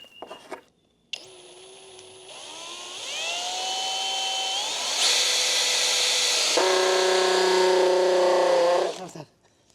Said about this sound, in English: that grinding sound is whenever the bit isn't seated straight in